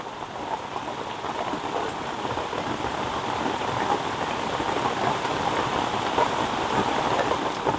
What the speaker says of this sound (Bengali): দেখুন বন্ধুরা বাইরে কেমন মুষলধারে বৃষ্টি হচ্ছে